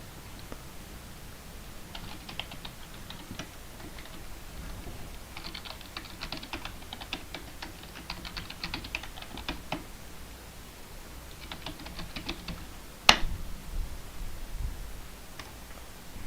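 Keys clatter on a computer keyboard as a username is typed, bursts of quick taps separated by pauses, fairly close and quiet, with one sharp louder click near the end.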